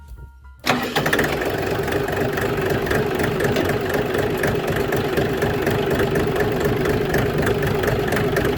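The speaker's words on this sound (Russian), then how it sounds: "И заводим трактор." A Shifeng 244C diesel tractor cranks and catches after a brief near-silence, then settles into a steady, close, clattering idle that continues to the end.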